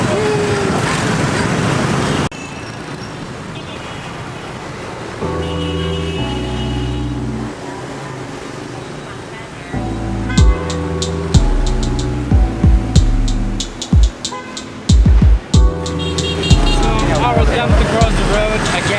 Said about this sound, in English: There's bikes everywhere.